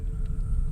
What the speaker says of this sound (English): And its exhaust note sounds like